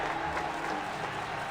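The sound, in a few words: crowd applause in video game Reverse: 1999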